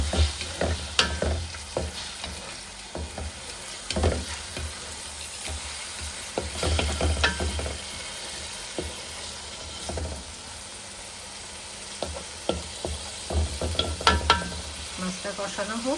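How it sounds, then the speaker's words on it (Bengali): Small pieces of rui fish fry in a pan with spices for a fish and bottle gourd curry, giving a steady sizzle broken by repeated scraping stirs from a spatula. "এখন মশলা আর মাছ একসাথেই কষাবো।"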